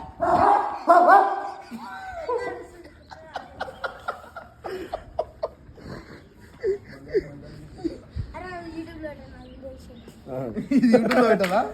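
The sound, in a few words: dog barking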